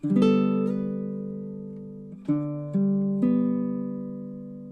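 Baritone ukulele plays measure 7 of a song, four sustained strummed chords ringing alone and up close, each fresh strum swelling before slowly decaying.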